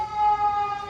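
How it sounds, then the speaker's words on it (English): A loud emergency siren wails steadily nearby, a sustained tonal blare that fills the whole moment. "Sorry about that siren."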